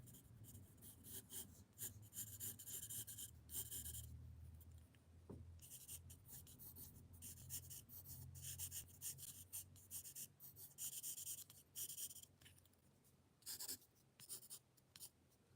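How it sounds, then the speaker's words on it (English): Pencil speed sketching on paper while drawing Miku figures: quick, faint, close scratchy strokes in irregular bursts, with soft rubbing between them and no talk. "Do some speed sketching."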